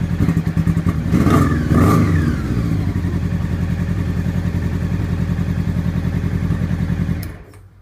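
A Honda Nighthawk motorcycle engine idling up close, a steady even thumping rumble that blips briefly early on, then settles before cutting off abruptly near the end.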